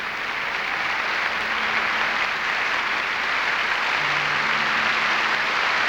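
Sustained applause from a church congregation, many hands clapping at once in a thick, even roar with no pauses, and a few faint voices just audible beneath it.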